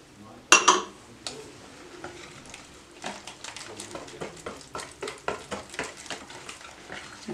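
White vinegar stirred into chicken frying on a flat tawa, a sharp clatter of a spoon at the start, then a steady run of scraping, tapping strokes over a low sizzle.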